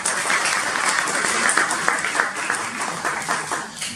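Warm, dense clapping fills a lecture hall on Book Day at a talk on Moroccan literature, many hands together and fairly close, steady over the whole stretch.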